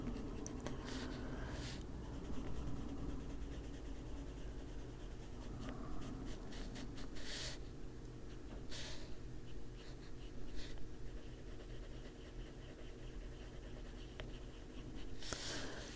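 Colored pencil scratching on paper during adult coloring of a Disney Winnie the Pooh page, a steady soft shading rasp with strokes of varying pressure running continuously, close and quiet.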